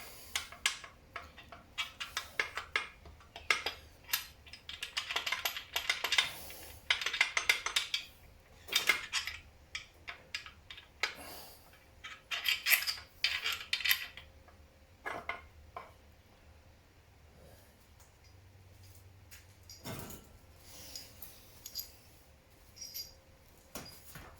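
Metal bolts and a bearing cap on a Ford Essex engine bottom end clink and rattle as they are wiggled loose, producing sparse, light metallic ticks and taps scattered over a quiet background.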